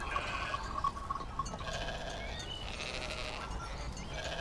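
Sheep bleat in a pastoral setting, with several wavering calls overlapping over a steady background, moderately loud and without speech.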